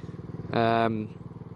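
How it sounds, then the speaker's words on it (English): A Lexmoto Hunter 50cc motorcycle revs up in a short, rising buzz that holds briefly then fades back to a rapid idle putter, close by and loud, with no talking. "That's more or less the acceleration on the bike."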